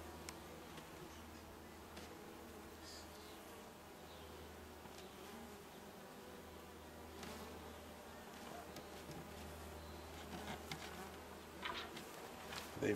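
Honey bees buzz steadily and close throughout an open beehive inspection in an Arizona bee yard, a dense continuous insect drone with faint voices now and then in the background.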